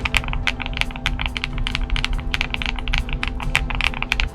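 Typing on a NuPhy Air75 V3 low-profile mechanical keyboard, a rapid irregular run of crisp clacky keystrokes at close range, steady and alone without talk.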